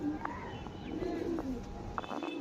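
Breeding pigeons in a Howrah loft coo in low, rolling calls, close and steady over a faint background hum, with no voices.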